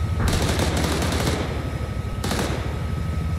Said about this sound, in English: are we getting hit with with artillery? There's some explosions that happened about 200 meters away